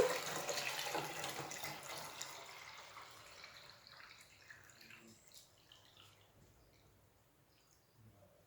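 Water poured from one jug into a litre measuring jug, a splashy broadband pour loudest at the start and gradually tapering off to faint trickles over several seconds, close by with no talk.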